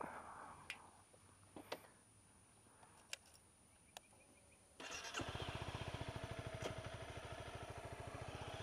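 A motorbike engine cranks and catches after some light ticks and clicks, then settles into a steady, throbbing idle, close and fairly loud, with no talk.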